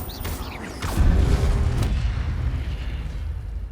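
Fire spell cast in Hogwarts Legacy, a sharp whooshing burst followed by a loud booming blast with a rumbling tail, close and alone without talk.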